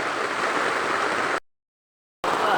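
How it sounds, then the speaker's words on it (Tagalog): Heavy rain falling on a farm, a dense, loud continuous hiss and patter that cuts out briefly before resuming. "Sa sobrang lakas ng ulan guys, tingnan nyo naman yan."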